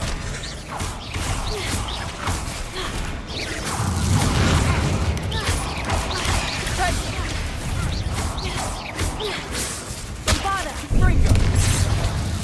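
Spell explosions in the video game Hogwarts Legacy, repeated booms and crashes in a dense, busy battle mix with cracks and creaks throughout and a heavier burst near the end.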